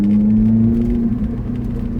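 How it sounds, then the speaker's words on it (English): A Lotus Elise engine droning steadily at a low pitch on a mountain road, the tone holding then wavering slightly as it drives, with road rumble underneath. "You can hear the sounds this car makes."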